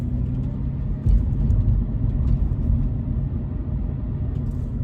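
A 2020 Toyota 86GT sports car with a 6-speed manual idles and rumbles steadily in a parking lot, a deep low engine drone that swells briefly about a second in, then holds even and close.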